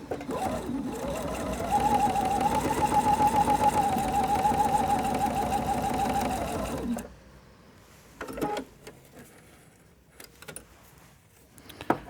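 Home sewing machine stitching a seam after a tension fix, a steady whirring run of about seven seconds followed by quiet clicks and fabric handling.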